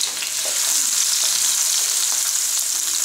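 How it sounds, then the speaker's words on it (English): Garlic and sliced courgettes fry in a ceramic pan with a steady, bright sizzle, close and loud, with faint stirring scrapes running through it and no talk. "Let's add garlic and courgettes."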